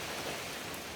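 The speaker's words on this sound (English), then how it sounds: "ready to get back out in the rain" Rain falls steadily on the Appalachian Trail, a dense, even hiss of drops with no other sounds over it.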